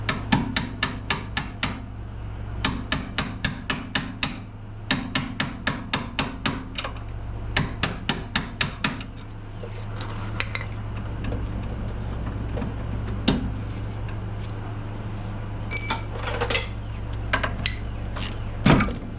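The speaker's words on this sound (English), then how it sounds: "So I'm gonna go ahead and try and just pop it out though with the punch." Sharp metallic hammer blows on a punch drive out a strut bolt on a Honda S2000 suspension, landing in quick bursts of four to six strikes with short pauses, then sparser taps over a low steady hum.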